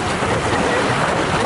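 Continuous loud wash of water and engine noise from a boat pushing through waves on the lake at Ulun Danu Beratan Temple, Bali, with no talking.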